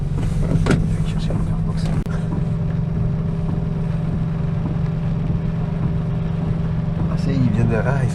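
A car, apparently a Nissan GT-R, runs on a gymkhana test track at Mortefontaine, its engine a steady hum under a person talking, with occasional sharp clicks and whines.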